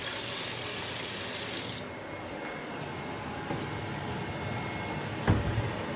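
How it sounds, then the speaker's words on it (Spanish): Tap water runs steadily from a kitchen faucet to rinse a dish, a continuous close hiss filling the whole stretch, with a brief clatter near the end and no talking. "Este hay que lavarlo. Agua para que se vaya lavando."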